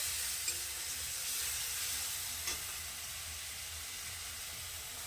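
Onions cooking in a pan with a ground paste of chili, onion, garlic, ginger and cumin give a soft, continuous sizzling hiss with a couple of faint utensil taps; quiet, steady and close, with no voices.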